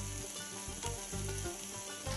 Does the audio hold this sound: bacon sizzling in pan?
yes